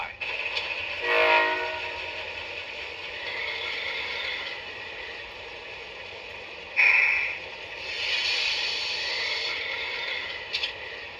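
An Atlas CSX presidential locomotive runs with a steady mechanical drone, sounding several horn blasts: one early, a sharp one midway and a longer one near the end, with no talking.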